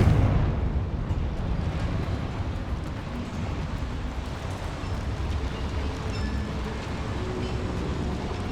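Confringo fire spell blast in Hogwarts Legacy, a loud sustained roaring rumble that starts at full strength and churns steadily like a continuous explosion, with no voices.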